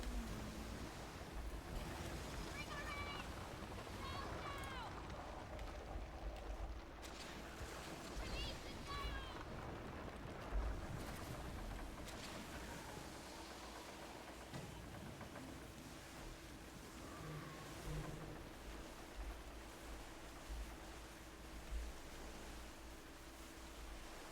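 Ship sailing the ocean in the video game Skull and Bones, with a faint, continuous rush of waves and wind under a steady low rumble, and a few quiet tonal game sounds over it.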